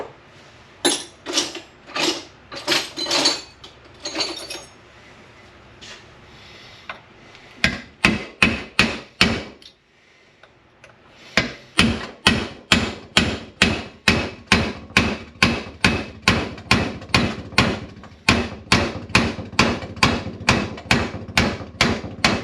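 A hammer drives a roll pin through the shifter of an NV3550 manual transmission. Sharp, loud metallic strikes come close, first in a few irregular bursts, then after a short pause as a long, steady run of evenly spaced blows.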